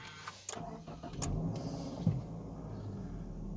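A 2019 Subaru Legacy Sport starting, a couple of clicks followed by a short crank and the engine catching into a low, quiet idle, heard from inside the car.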